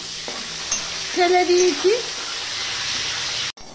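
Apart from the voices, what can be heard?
bitter gourd strips frying in oil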